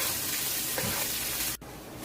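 Onion frying in olive oil in a pan, a dense continuous sizzle with a brief stirring scrape midway and a sudden short dip near the end.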